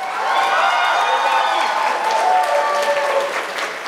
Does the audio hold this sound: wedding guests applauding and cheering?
yes